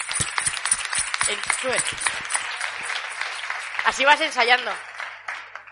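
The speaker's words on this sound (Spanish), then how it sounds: "Un aplauso para Gemma, que está aquí escondida." An audience claps for Gemma at a Spanish talk event, with steady applause running through while a person talks over it.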